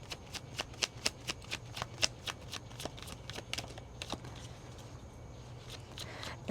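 A deck of tarot cards is riffled and shuffled in quick, crisp bursts, a dozen or so soft flicks close by, fading toward the end over a low hum.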